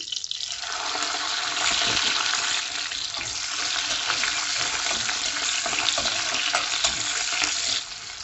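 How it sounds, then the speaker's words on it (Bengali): Whole cumin seeds, chopped green chilli, garlic and ginger hit hot oil for Bengali-style dal tadka, a loud continuous sizzle and crackle that holds steady for several seconds, then eases off near the end. "আমি দিয়ে দিচ্ছি 1 চামচ গোটা জিরে, আর দিচ্ছি আমি লঙ্কার কুচি, রসুন কুচি আর আদার কুচি।"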